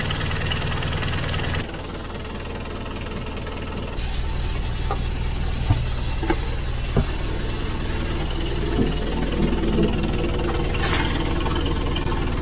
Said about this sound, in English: it'll warm the engine up, which I need for when I'm doing the oil change